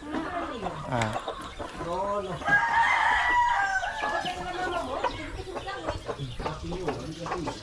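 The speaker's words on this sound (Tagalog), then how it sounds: "May manok doon, oh." Hens cluck busily while a rooster crows loudly nearby, with people talking over the farmyard commotion.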